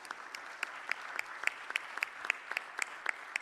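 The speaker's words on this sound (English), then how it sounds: "let's give a round of applause to the Frisco Chamber of Commerce for having this event tonight" Scattered, fairly quiet applause from a small audience at a candidate forum, with distinct individual claps popping out irregularly over a soft wash of clapping.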